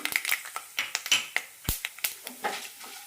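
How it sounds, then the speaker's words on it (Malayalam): Mustard seeds sputter in hot oil in a pan while tempering for an upma made from idli or dosa batter, giving quiet, sharp, irregular pops and crackles up close. "ഇതിലേക്ക് കടുക് ഇട്ട് കൊടുക്കാം കടുക് പൊട്ടാൻ തുടങ്ങുമ്പോൾ"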